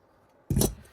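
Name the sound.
scissors snipping through fabric notches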